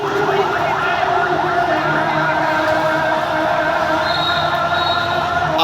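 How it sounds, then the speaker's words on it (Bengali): An ambulance siren wails steadily and loudly within a slow-moving political motorcade, its sustained tone layered over a dense roar of crowd and traffic noise throughout. "অ্যাম্বুলেন্সের গাড়ি,"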